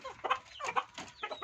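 Hens clucking in a backyard coop with nests in a La Union province yard, several short bursts of clucks in quick succession at moderate distance.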